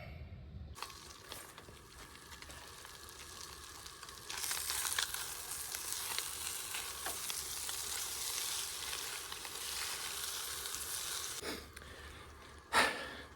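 Diced Spam sizzles in a pan as a steady frying hiss, fainter at first and then fuller, with a sharp clatter near the end and no talk.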